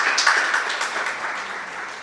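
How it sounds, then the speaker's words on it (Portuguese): A church congregation applauds, a soft, even, sustained wash of many hands clapping together, heard from a distance without distinct individual claps. "Pode aplaudir, porque é Ele que nos sustenta"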